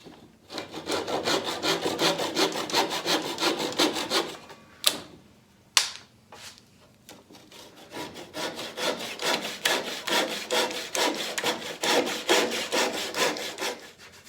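Rhythmic back-and-forth sawing through wood, loud and close, with a short pause and a couple of knocks before the strokes resume.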